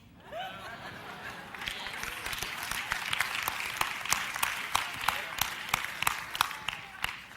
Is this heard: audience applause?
yes